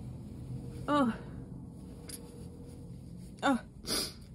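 A person in a sneezing fit brought on by dust and illness lets out two loud, close sneezes a few seconds apart, the second followed by a sharp breathy burst, with quiet room noise between them.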